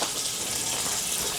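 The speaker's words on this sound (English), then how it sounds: "we're gonna add some water to the boiling pot" Water pours steadily into a cooking pot meant for boiling bananas and whole wheat dumplings, a close, continuous rushing splash without talk.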